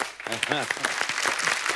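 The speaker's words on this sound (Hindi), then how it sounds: "एक बार जोरदार तालियां हो जाए।" A television comedy-show studio audience applauds to welcome guests, the clapping sitting under a voice that talks over it throughout.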